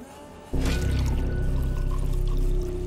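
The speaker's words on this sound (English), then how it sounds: "Go ahead and put a dose of the serum in the water." In the video game Wasteland 2, a dose of serum is poured into water, heard as a sudden loud, steady pouring gush that holds for about two seconds before easing off.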